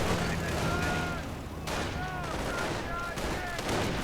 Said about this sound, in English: Artillery going in here against the supposed position of the bunker